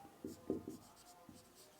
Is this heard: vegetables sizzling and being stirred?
no